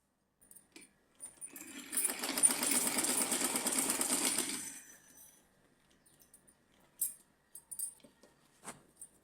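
A sewing machine stitching the side seam of a small summer dress for a Laddu Gopal figure, one steady rapid run of about three seconds, close, followed by small clinks and handling sounds, with no talking.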